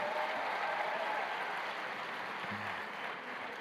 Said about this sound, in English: A big round of applause to the Cheryl Silver Foundation